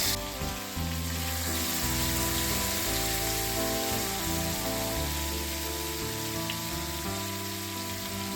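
Barramundi fish cutlet fries in a pan with a soft, continuous crackling sizzle like light rain, steady and fairly quiet throughout.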